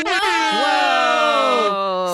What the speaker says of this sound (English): That deserves a hip-hop air horn.